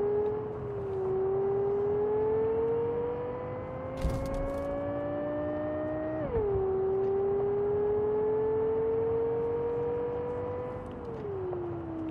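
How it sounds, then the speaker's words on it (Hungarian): A steady, quiet engine hum from the Caliburn car in the video game Cyberpunk 2077, rising gently in pitch and dropping twice as gears shift, with a brief click partway through and no talk. "Egy kis halk, csendes a motor."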